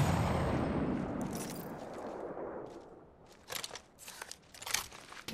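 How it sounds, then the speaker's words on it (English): A thermite grenade in Apex Legends ignites with a loud rushing, crackling burst that fades over a few seconds, followed by scattered sharp crackles and snaps. "Thermite grenade here."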